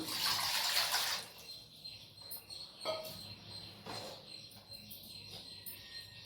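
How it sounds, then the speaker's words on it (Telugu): Water poured into a cooking pot set on a stove on low flame, with a strong splashing rush at the start, then softer intermittent trickles and clinks, close by with no talking. "వాటర్ వేసేసుకుంటున్నాను."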